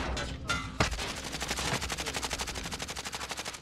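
Automatic gunfire in Call of Duty Warzone: a few sharp opening shots followed by a long, even burst of rapid rounds, loud and close, with no talking.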